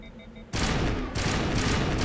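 Rapid weapon bursts from a gun in the video game Mass Effect, loaded with polonium rounds, a dense roar of gunfire starting suddenly and staying loud, with a brief break before resuming.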